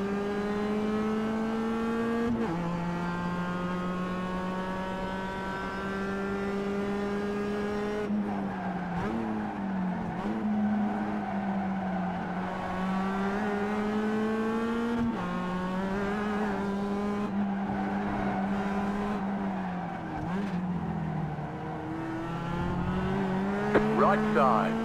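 Mazda MX-5 Cup race car in the iRacing simulator at Summit Point Jefferson Course, its engine droning steadily with pitch rising and dipping through shifts and corners, with some tire squeal and a spotter's voice over the top.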